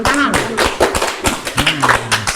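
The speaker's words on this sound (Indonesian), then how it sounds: "tepuk tangan pemirsa" Studio audience of a talk program clapping in distinct, closely spaced slaps, loud and near, with voices talking over them.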